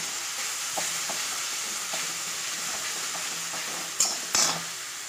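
Spices fry with cooked-down tomato in a pan, giving a steady close sizzle with light stirring taps, then two louder clanks of utensil on pan near the end.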